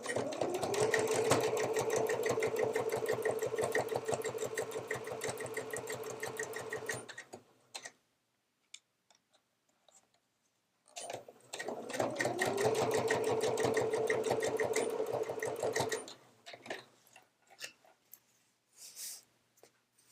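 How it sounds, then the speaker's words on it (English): A sewing machine stitches a seam along the bottom edge of a fabric hip bag, running in two steady, rapid bursts of about seven and five seconds, with a quiet pause between them and a few soft handling clicks afterward. "now I'm just going to stitch 3/8 of an inch from this bottom edge"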